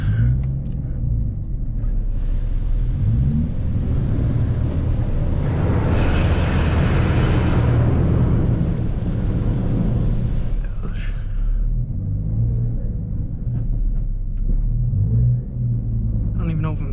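A Nissan 350Z driven for the first time in two years gives a low, steady engine rumble from inside the cabin, swelling briefly mid-clip as it accelerates, with voices talking over it.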